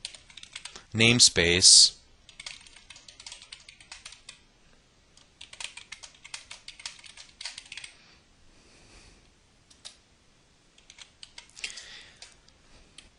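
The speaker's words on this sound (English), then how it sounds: "So I'm going to go ahead and type out the whole" Someone types C# code on a computer keyboard, producing irregular quick clusters of close, light key clicks. A short spoken word comes at the start.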